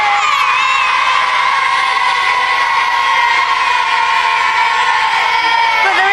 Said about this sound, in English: a massive cheer for the